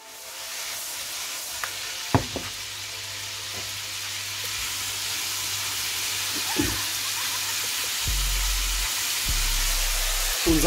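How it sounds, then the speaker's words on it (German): Meat for homemade Iskender kebab sizzles steadily in a hot pan, a constant bright hiss with a few clinks and scrapes, plus low hum near the end. "Jetzt werden wir unser Fleisch anbraten."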